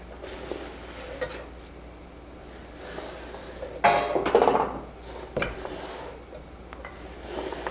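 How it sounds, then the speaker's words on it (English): Chopped cabbage tipped into a cooking pot while a low-calorie meal is made, a brief clatter and rustle of leaves striking metal among quieter kitchen handling, close by with no talking. "now we're gonna add them to the pot. Adding in the cabbage."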